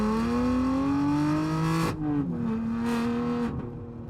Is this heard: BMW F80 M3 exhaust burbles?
yes